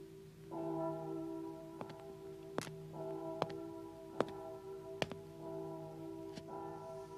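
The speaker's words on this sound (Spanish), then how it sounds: "¿La campana del Palacio de Justicia?" The bell of the Palace of Justice tolls in slow, spaced strikes, each clang ringing out with a long humming tail, heard in quiet without speech.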